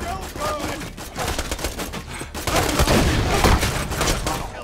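Gunfire in the shooter game Borderlands 2: dense, rapid bursts of shots and impacts, with a stutter of fire at first that grows louder and more sustained in the second half, close and loud.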